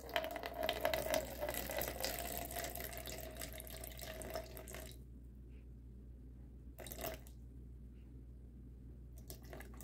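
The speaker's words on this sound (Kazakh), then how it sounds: "125 грамм су құямыз" Steady stream of 125 grams of water poured into a container to mix plaster for a handmade piggy bank: a continuous, soft close splash for about five seconds, then it stops and only faint brief trickles remain.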